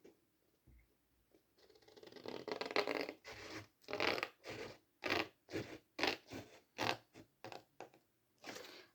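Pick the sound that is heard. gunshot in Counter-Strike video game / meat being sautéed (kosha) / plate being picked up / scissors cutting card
scissors cutting card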